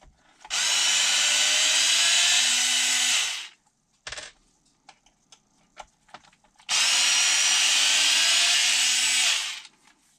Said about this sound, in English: Looks like we got 4 screws to pop that open